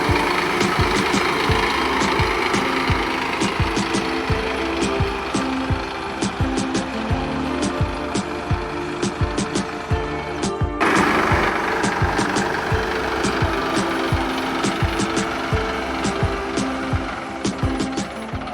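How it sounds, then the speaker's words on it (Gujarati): A tractor engine runs close by as it heads out to sow a field, with a steady low chugging throb and regular knocking pulses and no break. No one speaks. "આપણે હવે ટ્રેક્ટર જાય છે વાવવા"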